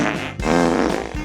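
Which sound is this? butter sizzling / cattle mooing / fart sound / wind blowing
fart sound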